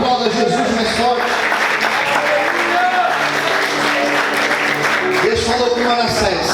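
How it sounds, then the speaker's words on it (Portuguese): A church congregation applauds loudly and steadily, a dense wash of clapping from many hands under a preacher's voice speaking over it. "Aplauda Jesus mais forte."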